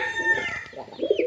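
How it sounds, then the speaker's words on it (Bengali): Calls from a pigeon kept among others, a pale-colored hen with white eyes and a short beak, come close and fairly loud, a short run of throaty bird calls with no talking. "যে কবুতর ডাকে সে সব জায়গায় ডাকবে আর ঘুরবে"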